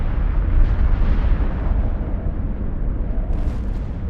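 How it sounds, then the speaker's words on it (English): A deep, rumbling explosion effect representing a massive solar eruption rolls on continuously, loud and bass-heavy, with no pauses and no speech. "The sun erupted in a series of massive explosions called coronal mass ejections, or CMEs."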